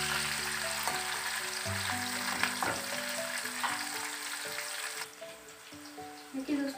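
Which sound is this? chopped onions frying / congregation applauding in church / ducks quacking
chopped onions frying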